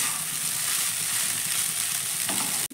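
Egg pasta sautéing in a pan, a steady close sizzle of frying with faint stirring scrapes, continuous throughout and cutting off abruptly at the very end.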